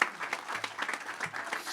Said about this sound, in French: il mérite vos applaudissements